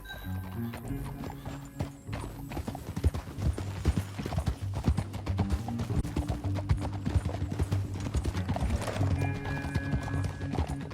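A horse galloping in Red Dead Redemption 2, with rapid, loud hoofbeats in a steady rhythm, a whinny near the start and a short whinny near the end, plus game music underneath.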